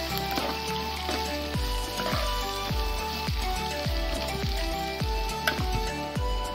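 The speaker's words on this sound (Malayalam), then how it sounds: "ഇത് നമുക്ക് എണ്ണയ്ക്കകത്തിട്ട് നല്ലതായിട്ടൊന്ന് വഴറ്റി എടുക്കണം" Onions with salt sauté in oil for a Kerala-style egg roast, giving a continuous sizzle broken by regular low knocks of stirring against the pan.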